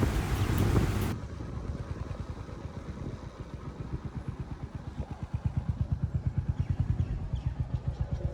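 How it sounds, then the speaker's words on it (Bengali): A motorbike rolls into a petrol pump. A loud rush of wind at the start gives way to a close, steady, throbbing engine note that pulses evenly throughout. "এখন পেট্রোল পাম্পে ঢুকাচ্ছি আমার বাইকটা।"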